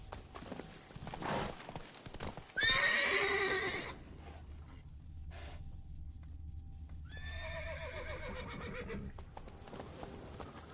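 Geralt's horse Roach in The Witcher 3 lets out two loud whinnies over a steady clip-clop of hooves as she sets off at speed.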